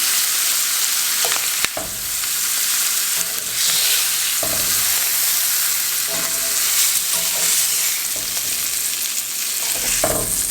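Golden-brown paprika chicken pieces sizzle loudly and steadily in a hot frying pan while being lifted out, with a few sharp utensil clinks breaking through the continuous hiss.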